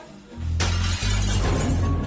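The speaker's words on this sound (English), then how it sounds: "They break the glass panel door" A glass panel door of a shop shatters loudly as burglars smash it at night, a sudden crash followed by sustained spraying, tinkling glass breakage that continues to the end.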